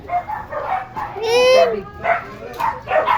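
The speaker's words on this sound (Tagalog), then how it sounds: "ingay-ingay ng mga aso" Several dogs bark and yip in short bursts across a few seconds, fairly close, with one rising whine-like call in the middle, all over a noisy household background.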